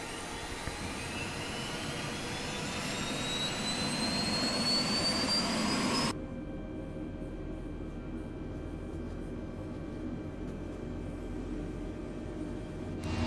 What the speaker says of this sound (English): go ahead and get the engine started